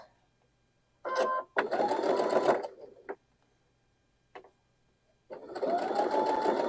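A sewing machine stitches a quilt block in bursts of steady mechanical whirring, with short stops and brief clicks between runs, close and clear.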